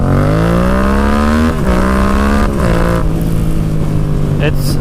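Motorcycle fitted with a performance air filter pulls hard in first gear, its engine note rising steadily in pitch, loud and close, with a brief dip as the throttle eases before climbing again.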